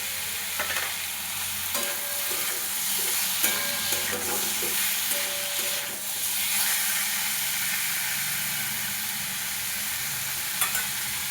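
Chopped medium tomato dropped into a hot pan for a fish curry with okra and potato, giving a steady close sizzle with soft stirring scrapes and occasional sharper spits.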